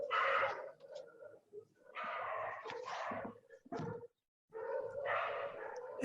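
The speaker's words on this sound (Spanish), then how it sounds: "Escucho bien, pero con una pelea de perros." Dogs bark and snarl in rough, overlapping bursts with a brief silent gap, a noisy scuffle heard at moderate distance.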